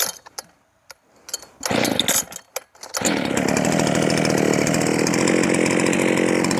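A chainsaw fitted with a Husqvarna C83 chain gives a few short blips, then roars into a steady loud run that holds close and continuous to the end.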